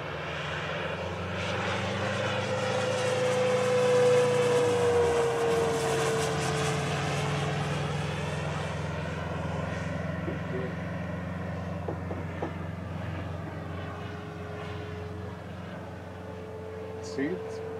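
A Grumman F8F Bearcat warbird flies slowly past at a Wenatchee air show, its piston engine droning loudly and then shifting pitch as it passes and fades, with people talking over it.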